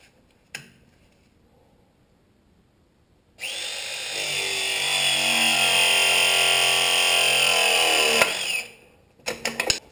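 A power tool crimps a 1 inch pipe fitting while Taco zone valves are swapped for Honeywell units. After a click and a few seconds of quiet, a steady loud motor whine with rising pitch runs for about five seconds, then clanks.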